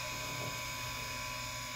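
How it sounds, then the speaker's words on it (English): A Harig Super 612 surface grinder's spindle runs steadily with a quiet, even mechanical hum and a faint high whine, holding constant throughout with no talking. "Go ahead and turn on the spindle."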